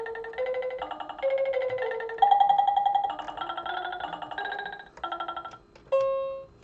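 Mandolin voice from a Chad Valley toy electronic keyboard plays a quick run of bright, buzzy synthetic notes with a rapid tremolo flutter, ending on a held tone, with no talk.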